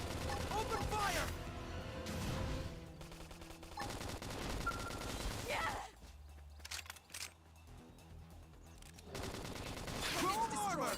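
Gunfire in the video game Xenoblade Chronicles X, heard as rapid bursts and volleys of shots with crashes and mechanical clatter mixed into loud battle sound and music, sustained and dense throughout.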